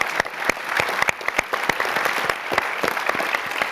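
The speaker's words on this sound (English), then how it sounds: "Can we applaud the great" Audience applause at a live film talk, dense steady clapping from a crowd, fairly loud and sustained with sharp individual claps standing out, no talk over it.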